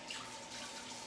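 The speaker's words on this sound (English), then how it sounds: "I'm gonna wash my hands like I said, or I just water them sometimes" Tap water runs steadily into a kitchen sink as hands are rinsed, a soft continuous splashing hiss heard close and alone for about a second.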